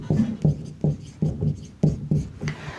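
Chalk or marker writing on a classroom board during a chemistry lesson: a series of short scratchy strokes in a steady rhythm, close and clear with no talking over it.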